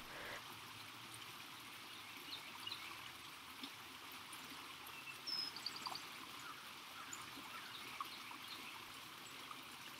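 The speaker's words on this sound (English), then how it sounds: "right here is a bend in the stream" A small stream with a little waterfall runs as a steady, soft, continuous wash of water, faint and distant, with occasional tiny bird chirps above it and no talk.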